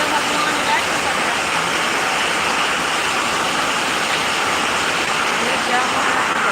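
Heavy rain pours in a steady, dense roar close by, unbroken broadband noise with no pauses or distinct drops.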